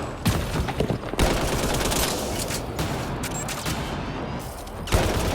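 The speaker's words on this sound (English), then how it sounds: "eat my bullets" Rapid bursts of gunfire in the video game Mass Effect Andromeda, a dense, continuous volley of shots that stays loud and close throughout with no talking.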